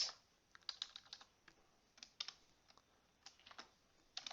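Keyboard typing on a computer while entering text into a Word document, irregular bursts of close, light key clicks with short pauses between them, no voices.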